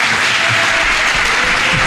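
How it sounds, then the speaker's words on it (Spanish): A live audience at a podcast recording breaks into strong, dense applause, steady and close for about two seconds. "Os pido un fuerte aplauso."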